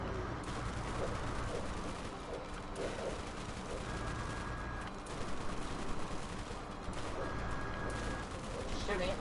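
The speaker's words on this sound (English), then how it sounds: "Shooting it in the face with fire" Dense, continuous gunfire from a flamethrower-style weapon aimed at a creature in the Borderlands video game, a steady roaring crackle of rapid shots and bursts lasting throughout at a constant level.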